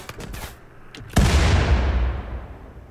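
A grenade detonates with a heavy boom in RimWorld, with a rumbling tail that fades over more than a second. A few quieter pops and clicks come just before it.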